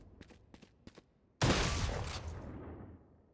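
A single loud shotgun blast fired with the alternate right-click mode in VALORANT, sharp and booming with a decaying tail, following a few faint clicks.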